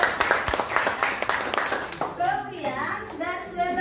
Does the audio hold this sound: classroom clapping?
yes